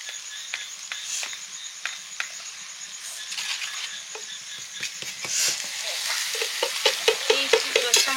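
Papad fries in hot oil with a close bubbling sizzle and a run of sharp crackles and taps, growing busier and more rhythmic toward the end.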